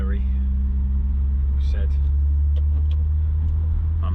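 A car engine idles steadily in the background, a constant low rumble under someone talking close to the microphone.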